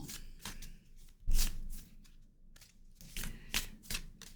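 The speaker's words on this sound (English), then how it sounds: "One more shuffle." Tarot cards being shuffled by hand, heard as several close, crisp riffling bursts of varying loudness with short pauses between them and no voices.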